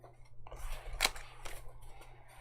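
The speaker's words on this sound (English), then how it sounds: "Let me give these a good shuffle." A few quick papery rustles and snaps as a small deck of tarot cards is shuffled by hand, close and fairly quiet.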